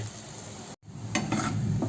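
Steady sizzling of raw banana frying in a pan, with a brief cut and a few stirring scrapes on top.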